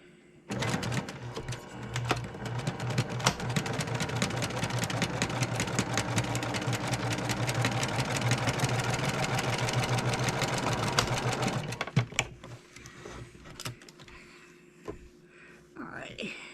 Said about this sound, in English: I'm going to sew these right down the middle. Sew these 2 pieces together.